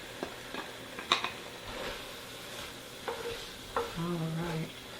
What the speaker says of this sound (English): We're going to add the celery and onions back into the pan